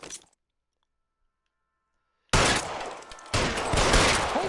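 Gunfire in a police video game during a standoff with a bowling alley robber: a sudden loud burst of shots after near silence, then continued dense crackling and noise.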